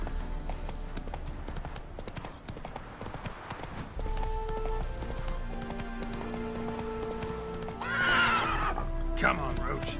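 Roach, the horse in The Witcher 3, clip-clops along at a steady gallop, then gives a loud whinny near the end, with faint game music and voices in the background.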